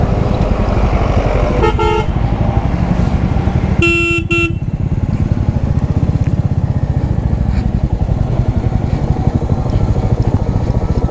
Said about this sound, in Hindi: ये देखो कितना तेज़ भाग रही है बाइक।